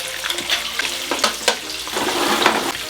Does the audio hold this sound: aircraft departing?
no